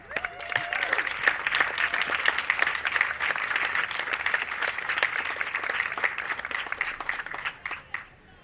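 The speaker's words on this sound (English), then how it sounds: "I want to hear you give them a round of applause." Audience applause at a remembrance and healing event, many hands clapping steadily for about eight seconds with distinct individual claps audible, then tapering off near the end.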